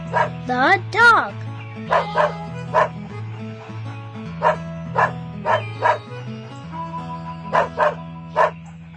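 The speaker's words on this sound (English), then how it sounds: "The dog." A farm dog barks in a series of short, clear yips and woofs, irregularly spaced over a steady backing of gentle music, with an occasional whine near the start.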